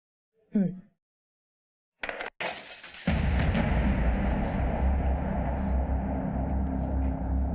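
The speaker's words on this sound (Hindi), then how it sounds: "अरे ये कांच किसने तोड़ा?" Glass shatters loudly in an indoor drama scene, a sharp crash followed by a dense, sustained burst of breaking noise after a brief voice at the start.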